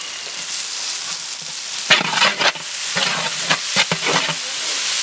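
Coriander, mint and curry leaves sauté in a pan for veg biryani, with a steady frying sizzle and bursts of stirring scrapes near the midpoint and toward the end.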